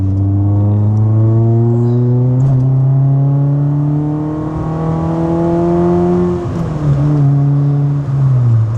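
A K-swapped Rover Metro engine revs loudly and close, its tone climbing steadily with strong harmonics before dropping briefly and rising again.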